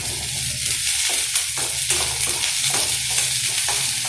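Onion, garlic, green chili and curry leaves sizzle steadily in hot oil while a spoon stirs and scrapes the pan in irregular strokes, close and fairly loud with no talk.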